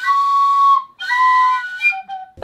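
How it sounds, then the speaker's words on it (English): A beginner plays a tin whistle unsteadily, holding wavering notes in a few loud phrases separated by gaps, with pitch slips and uneven breathy tone as a simple tune is attempted. "With this tin whistle, I'm going to learn the Shire song"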